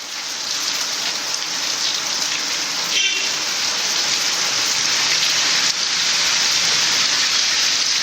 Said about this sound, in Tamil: சேலத்திலும் பல்வேறு பகுதிகளில் கனமழை பெய்தது